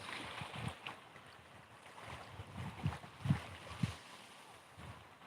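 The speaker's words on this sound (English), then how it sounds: "You can hear the water, the very slight waves." Very slight sea waves lap softly in a quiet seaside setting with some wind, faint irregular splashes and gentle swells over a low steady rush.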